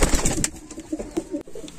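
Lal Jiriya pigeons coo in soft, throaty, repeated calls, close and clear, with faint background rustle and no talk.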